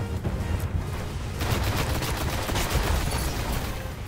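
Dense gunfire from a multiplayer Crucible match in Destiny, with rapid shots and a few heavier booming reports blending into a continuous loud clatter.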